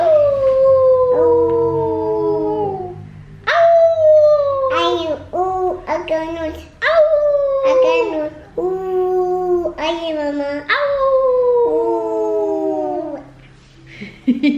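A young child imitating a wolf howl, a series of long, wavering vocal howls close by with short breaks between them and a quiet household background.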